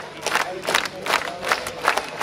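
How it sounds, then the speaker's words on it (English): A concert crowd at a band's live festival show at Skogsröjet in Rejmyre, Sweden, claps along in a steady, fairly slow rhythm, with the sharp claps ringing out over a broad wash of crowd noise. "Some good clapping, but it's too slow"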